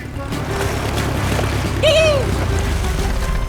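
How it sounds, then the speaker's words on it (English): A cartoon boat arrives at a tropical island with a continuous watery engine rumble throughout, and a brief rising-and-falling whistle-like tone sounds midway. "Suddenly, they hear a noise and look closer to see that Spike has arrived on his boat."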